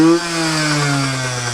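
A Yamaha RX50 motorcycle engine with low compression revs, its pitch sliding down as the throttle eases, loud and close with no one talking.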